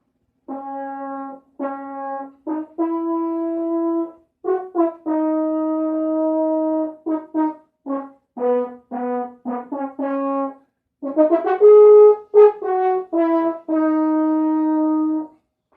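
A horn plays a close, full-toned series of sustained notes and short phrases with brief gaps between them, loud and alone, shaped in the lush style of movie-soundtrack horn playing.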